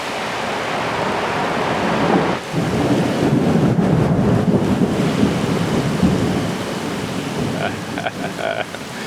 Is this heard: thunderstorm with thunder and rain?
yes